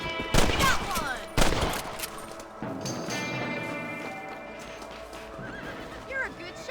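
In the Red Dead Redemption video game, rifle shots are fired at rabbits: two sharp, loud cracks ring out in quick succession with horse hooves clopping and whinnying around them, and game characters speak afterward.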